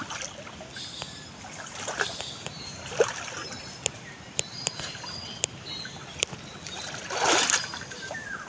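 Someone wades through deep river water while hunting crabs, with scattered sharp clicks and knocks, gentle trickles and a louder swishing splash near the end, all close and fairly quiet.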